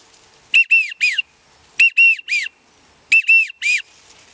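A Drakon wigeon drake call whistle blown in three evenly spaced bursts of three clear, high, rising-and-falling whistled notes, loud and close with silence between the groups.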